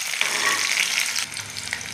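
Ghee sizzles steadily in a pan with chopped ginger and green chillies, a continuous close frying hiss with no voices over it.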